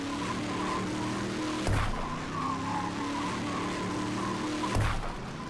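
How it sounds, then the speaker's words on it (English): A car in the Brick Rigs game spins its wheels at the start of a race, a continuous tire-squeal and engine drone with two sharp thumping bumps, heard alone without speech. "There's so much wheel spin."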